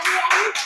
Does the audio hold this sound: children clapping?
yes